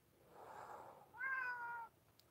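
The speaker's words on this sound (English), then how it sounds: "The cat wants in." A cat meows from nearby while wanting to be let in, giving a soft drawn-out cry followed by a clearer, higher meow, both faint and alone.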